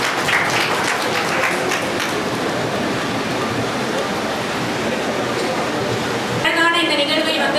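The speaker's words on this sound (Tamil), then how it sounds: "அவர்களுக்கு நல்ல கரங்களை கைத்தட்டி கொடுக்கலாமா?" Dense, steady applause from an audience at an award ceremony fills the whole stretch, loud and continuous, with a voice breaking in near the end.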